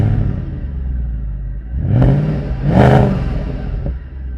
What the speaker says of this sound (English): One of the great things about this M156 engine is the noise that it makes, and despite only having 2 pipes, it still makes a fantastic sound.